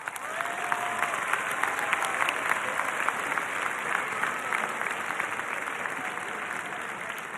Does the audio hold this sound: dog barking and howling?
no